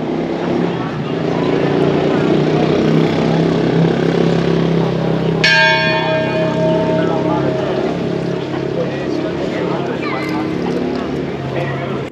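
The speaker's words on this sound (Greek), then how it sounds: "Μάλλον χτύπησε η καμπάνα" The bell of a small village church in Stavros, Greece rings out with a clear metallic strike during the Athens Marathon, its tone ringing on and decaying beneath steady crowd noise, traffic rumble and nearby talk.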